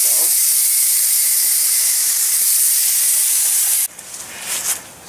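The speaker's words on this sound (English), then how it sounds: "I'm going to wash these cracks out" A water spray washes out cracks in a concrete foundation wall with a loud, steady, close hiss that cuts off abruptly, leaving faint splashing and dripping.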